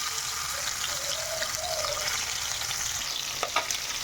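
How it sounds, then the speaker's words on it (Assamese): Fish frying in a kadai with oil, a steady close sizzle and crackle that runs throughout with a few small clinks near the end. "ইয়াত মাছকেইটা মই অলপ অলপ ফ্ৰাই কৰি ল'ম"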